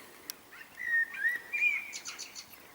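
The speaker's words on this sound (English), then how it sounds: "Mr. Blackbird's in the background, singing out his praises" A blackbird sings outdoors in a short run of fluting, whistled phrases followed by quick chirps, moderately close with a quiet background.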